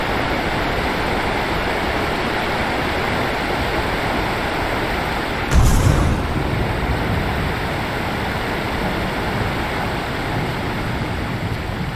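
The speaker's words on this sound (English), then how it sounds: "Man, that's a noisy waterfall." A noisy waterfall in the video game Lord of the Rings Online roars as a loud, dense, unbroken rush of water, with a brief swell midway, and no voices.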